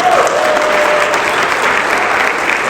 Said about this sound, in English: Yes, you can clap for that.